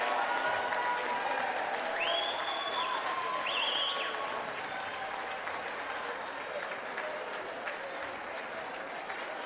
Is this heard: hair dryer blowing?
no